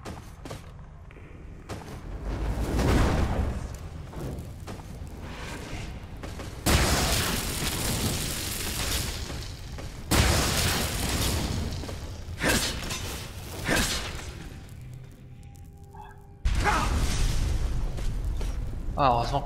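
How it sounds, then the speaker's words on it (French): Loud explosions and crashing blasts in the fantasy game Skyrim, several sudden bursts spread across the stretch amid clanking combat sounds, with someone talking in between. "heureusement que mon armure encaisse l'explosion"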